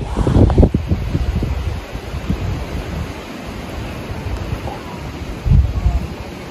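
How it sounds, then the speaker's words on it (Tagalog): Strong wind on rolling hills in Apao, Abra, buffets the microphone in a continuous roar, with louder gusts at the start and near the end. "Ibang-iba yung hangin."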